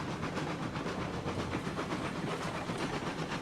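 A locomotive in RailRoads Online labours up a steep 6% grade with a steady hiss and rumble and a faint rhythmic chuffing underneath, constant and fairly close.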